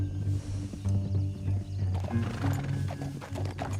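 Horses ridden in the video game Red Dead Redemption 2, hooves clip-clopping steadily close by, with a whinny and game ambience.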